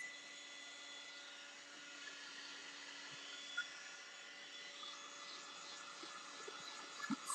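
A hair dryer runs steadily while drying glue and gold paint on check-pattern candlesticks, a faint continuous whir with a few small knocks and handling sounds.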